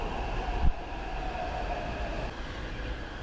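A Taipei metro train runs with a continuous rumbling hum of the carriage, a faint tonal whine over it and one sharp clunk near the start, heard from inside the car.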